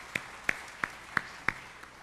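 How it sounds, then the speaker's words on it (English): At a community college student awards ceremony, a few faint, evenly spaced claps sound for the catering staff, sparse and steady rather than a full crowd ovation. "if we could give them a round of applause"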